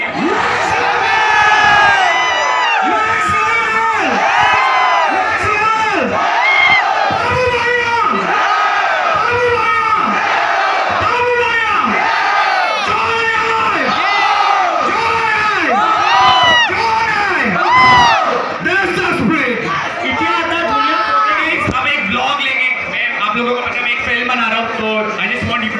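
A large crowd of fans at a meet-up shouts and cheers loudly and close for a long stretch, with voices rising together in rhythmic bursts of whoops and yells.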